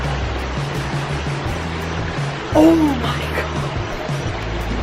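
Water from an aquascape pond waterfall feature pours in a steady rushing wash, with a brief excited voice breaking in partway through.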